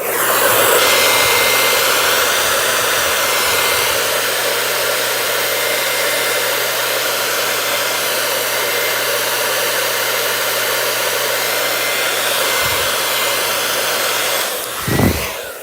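A hair dryer blows steadily at close range, drying wallpaper paste on a damask-pattern tree wall design, its broadband whoosh holding constant for about fifteen seconds before a brief shift and cutoff near the end.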